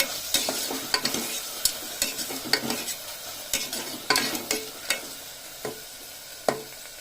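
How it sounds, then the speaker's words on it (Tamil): Tomatoes sautéing in a pan for chicken curry are stirred with a spoon, giving a close, steady sizzle under a run of rhythmic scraping strokes, with no one talking. "தக்காளி வதங்கட்டும்."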